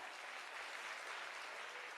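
Hearty audience applause at a gathering honoring spiritual teachers, continuous uniform clapping that stays steady and moderately loud throughout with no talk.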